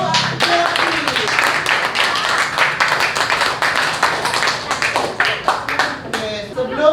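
Schoolchildren in an elementary classroom clap together for a classmate, a dense burst of many small hands that stays steady and close for several seconds, with a few voices mixed in at moments.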